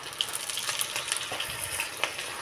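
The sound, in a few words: kebabs dropped into hot oil, frying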